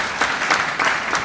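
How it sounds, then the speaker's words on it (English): An audience at a student scholarship award ceremony claps steadily, a dense, fairly loud patter of many hands with slight rhythmic swells. "Can you clap well?"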